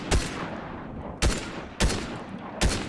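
Rapid bursts of machine gun fire in Fortnite, four sharp loud blasts spaced roughly half a second to a second apart, each trailing into a brief noisy decay.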